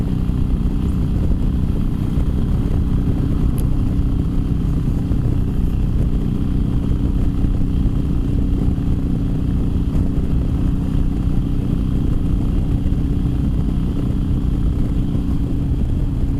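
A motorcycle fitted with Vance & Hines slip-on exhausts drones steadily at speed, its low exhaust rumble partly buried under constant wind and road noise.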